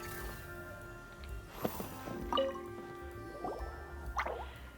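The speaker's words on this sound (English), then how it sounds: "it sounds like a water droplet is on the second floor" Water droplets in the Genshin Impact video game, several soft wet drips and squishy plops at irregular intervals over a faint low background, with no talking.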